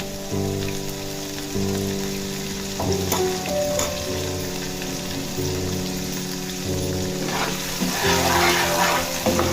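Poppy seed paste sautéing in a pan for a Bengali pointed gourd dish, a steady close sizzle and crackle with faint stirring scrapes running throughout, no voices.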